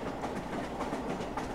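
Cartoon train running along the rails, a steady rolling clatter with faint rhythmic clicks, loud and close, with no voices.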